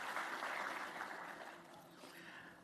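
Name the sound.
audience applause for a conference speaker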